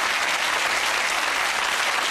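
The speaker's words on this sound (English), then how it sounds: "give Paul Taylor a huge round of applause." Studio audience on a TV quiz show, Who Wants to be a Millionaire, breaks into loud, sustained applause, an even wall of clapping from start to finish.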